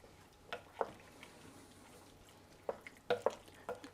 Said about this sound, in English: And we'll give that a little mix around.